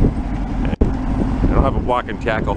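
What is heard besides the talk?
wind noise on microphone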